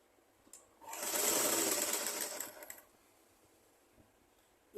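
A sewing machine runs steadily for about two seconds, stitching a hem on a garment, a close, continuous whirring burst that starts and stops sharply in an otherwise quiet room.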